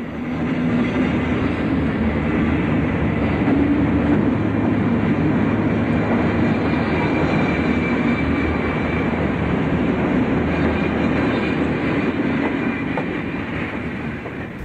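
A loud, steady rumble and clatter of a 1960s northbound City of New Orleans passenger train passing at Pass Manchac, rolling continuously and close by, with no voices.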